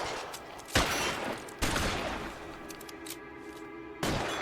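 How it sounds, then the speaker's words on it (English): Gunfire from the video game L.A. Noire: three sharp, loud shots cracking out at irregular intervals over a steady background of game ambience, with no talking. "He's shooting now."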